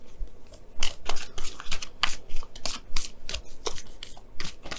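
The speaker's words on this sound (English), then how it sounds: "Let me go ahead and pull you guys your wisdom of the oracle for the week." Deck of oracle cards being shuffled by hand, giving repeated crisp riffling flicks and soft slaps in an uneven rhythm, close and clear with no talk.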